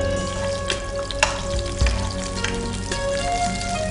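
A spoonful of garlic crackles and sizzles in hot oil for a tangy tomato garlic pasta, a loud close continuous fry with scattered pops and the odd scrape of stirring.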